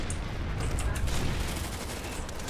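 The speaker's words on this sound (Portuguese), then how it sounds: "Alguém tá atirando em mim, ó." Sustained gunfire in a combat video game, a dense rattle of shots over a heavy low rumble, loud and continuous for the whole stretch.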